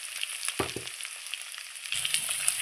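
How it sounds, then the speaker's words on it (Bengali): Pieces of taro (kochu) frying in hot oil give off a steady, close crackling sizzle, with a few soft knocks of a utensil against the pan and no talking. "আরও একটু লাল লাল করে আমি ভেজে নেব।"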